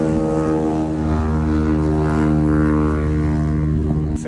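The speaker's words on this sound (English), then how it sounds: "Sounds like it's on one rotor." A rotary engine runs rough on one rotor, giving a loud, steady, buzzing drone with strong harmonic bands that holds without a break, heard up close and alone.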